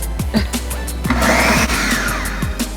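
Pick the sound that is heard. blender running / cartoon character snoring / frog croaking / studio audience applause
blender running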